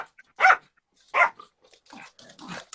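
A dog barks indoors, two sharp close barks followed by softer grumbling yips, heard alone without talk.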